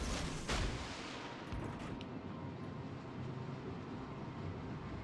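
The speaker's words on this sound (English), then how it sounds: "Oh, this thing fires 3 torpedoes." A destroyer launches torpedoes in World of Warships Legends, a heavy booming thump followed by a long rumbling rush of noise that fades slowly.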